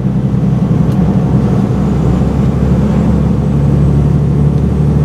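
An IVECO Stralis 460 truck hauling a loaded trailer accelerates with a loud, steady diesel drone and road rumble heard from inside the cab, a low tone rising gradually; no talking.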